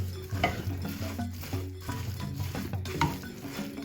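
A spoon stirs soya chunks through a thick, gooey sauce in a pan over low heat, giving soft scraping and clinking with a gentle sizzle underneath, steady and close for a few seconds.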